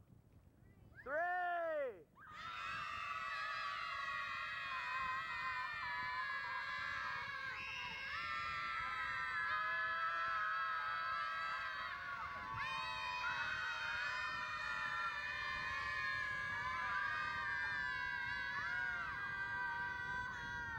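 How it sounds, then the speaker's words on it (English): A group of children at an outdoor nature school scream together in one long, sustained, loud chorus lasting many seconds after a brief rising shout at the start. "let's see how long you can scream"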